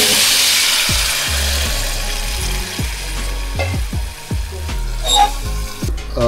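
Fish curry rassa simmering in a pan as tamarind water goes in, with a steady loud sizzle and bubbling and repeated knocks of a spoon stirring against the pan.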